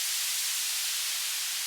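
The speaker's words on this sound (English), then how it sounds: "these really typical white noise sweeps that we see all the time in house" Bright, airy white noise sweep used as a house music transition effect, a dense hiss concentrated in the high range, steady and alone for under two seconds.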